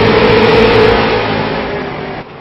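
Race cars on the Langley Speedway short track during a MIRL All-Star event, engines revving loudly and continuously close by, a dense sustained roar that eases off slightly toward the end.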